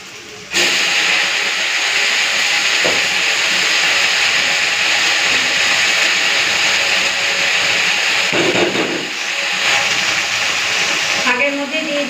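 Lote greens go into hot oil with frying garlic, setting off a loud, steady hissing sizzle that starts abruptly and keeps up with only brief dips.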